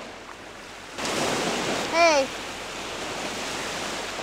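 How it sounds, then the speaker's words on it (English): Broadband surf of ocean waves at a beach, a steady wash of breaking water rising after a quiet start, with a brief voice and a short whistle-like sound partway through. "Baby's first time on the beach."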